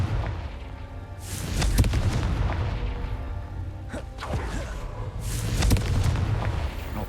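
A Confringo fire spell bursts in Hogwarts Legacy with booming blasts and whooshing impacts, several explosive hits spread over a few seconds above a steady rumbling game soundtrack.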